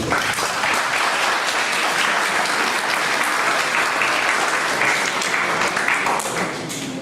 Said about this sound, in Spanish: Felicitamos al doctor Mateo Gómez Matos, brindándole nuevamente un fuerte aplauso.